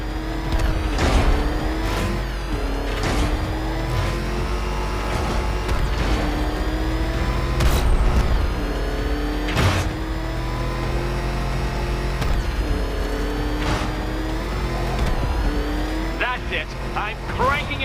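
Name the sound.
Batmobile driving and revving in video game Batman Arkham Knight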